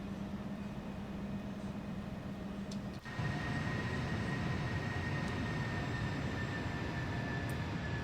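Jet engines of an Embraer E175 airliner in the X-Plane flight simulator hum as a steady, even drone, then swell abruptly about three seconds in to a louder, broader roar that holds steady, with no talking.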